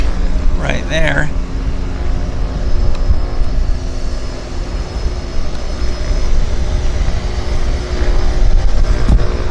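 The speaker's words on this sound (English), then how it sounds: "Another aircraft on approach right there." Floatplane on approach at Vancouver Harbour, heard as a steady engine drone that lasts the whole stretch, with a brief burst of voices early on.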